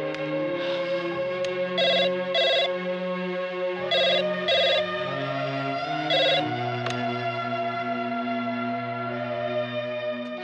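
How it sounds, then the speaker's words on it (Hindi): Telephone ringing in a Hindi action movie scene after a coin-phone call is placed, with repeated double rings in steady bursts over a sustained musical score, fairly loud and without talk. "फिर से फोन लगा।"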